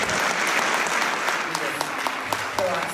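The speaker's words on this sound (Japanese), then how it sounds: "もう一回お二人で一回拍手お願いします。" Guests at a wedding reception applaud the bride and groom, steady crowd clapping throughout with a few sharper claps and faint voices mixed in.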